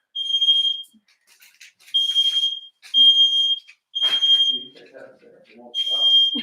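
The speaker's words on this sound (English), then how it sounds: "he's walking around with a smoke detector that's going off" A smoke detector going off in a home, loud piercing high beeps sounding in repeated bursts of about a second each, with people talking in between.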